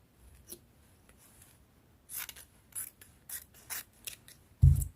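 Scissors slit fabric open for an umbrella sleeve, giving a quiet run of separate crisp snips that ends in one louder cut.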